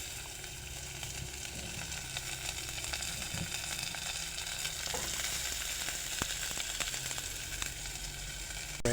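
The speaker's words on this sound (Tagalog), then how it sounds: "Mekos lang po ng mekos hanggang sa maluto ang ating sibuyas" Onions sizzle steadily in a hot pan alongside ginger for adobong balun-balunan, a close, even frying hiss broken by occasional scrapes and clicks as the pieces are stirred.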